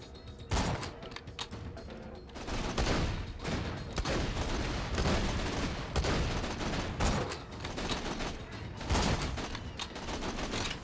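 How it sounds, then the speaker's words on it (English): Rapid gunfire from a sniper rifle in the video game Borderlands 2, with repeated close, loud bursts and thumps stacking into a dense barrage across the whole stretch. "Trying to hit me with a sniper from back there, huh?"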